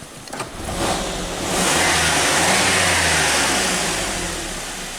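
A car engine, just repaired, runs smoothly and revs up from a steady idle, swelling into a loud, sustained roar before easing back down.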